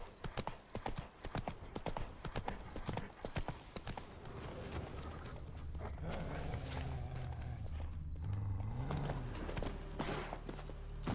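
Roach, a horse in The Witcher 3, gallops with fast rhythmic hoofbeats close up, then slows into a steadier stride under a low droning score.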